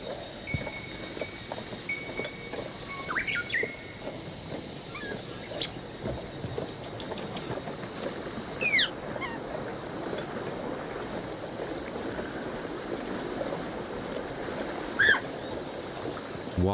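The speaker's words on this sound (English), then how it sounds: "Mostly it sounds like insects and birds." Birds chirp and insects hum along a river in an Indiana Jones video game, a steady outdoor wildlife bed with scattered near and distant calls and a few brief whistles rising above it.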